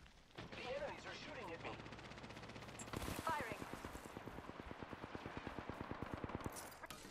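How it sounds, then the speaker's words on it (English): Rapid automatic gunfire in Apex Legends rattles in a steady, loud burst of evenly spaced shots through most of the stretch, with in-game voice chatter at the start. "The enemies are shooting at me."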